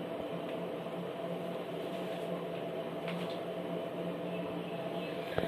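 A mixer grinder running steadily as it grinds millet and sorghum dosa batter, a constant dense whirring drone with no clear changes, heard alone at moderate level.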